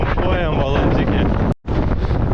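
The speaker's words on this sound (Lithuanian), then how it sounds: "Vėjas tiesiog taško į šonus" Strong wind buffets the microphone during a mountain bike ride on Holyhead Mountain, Anglesey, a loud continuous roar broken by one sudden momentary dropout before resuming.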